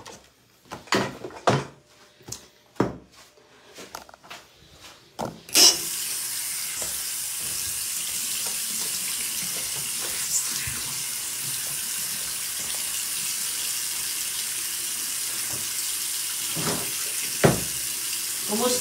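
Dishes being washed in a kitchen sink, first with a few sharp clinks and clatters of dishware, then a faucet opening into a loud, continuous rush of running tap water that goes on with occasional knocks of items beneath it.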